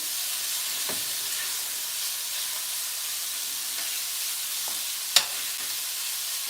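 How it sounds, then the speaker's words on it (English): Cheesesteak meat sizzles and hisses in a hot pan while being stirred, a steady frying hiss with a few brief scrapes and one sharp clink. "we're going to need to stir this so it doesn't start sticking to that"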